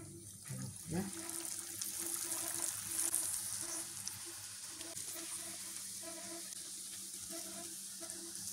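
Edam parsley cheese sticks sizzle as they fry in hot oil, a steady crackling hiss that carries through the whole stretch with a few louder pops and clatters early on.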